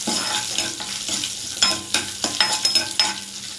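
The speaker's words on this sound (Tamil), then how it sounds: "இது நல்லா மொறுமொறுப்பாக வர வரைக்கும் வறுத்துட்டு" Garlic, dal and asafoetida fry in hot oil until crisp for a pirandai chutney, a bright steady sizzle broken by repeated sharp scrapes and knocks of a spoon stirring in the pan, close and fairly loud, with no voices.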